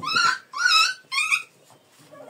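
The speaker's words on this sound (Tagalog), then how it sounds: "maingay yung mga tuta talaga" Puppies let out three high, whiny yips and whimpers in quick succession, close by, followed by faint rustling.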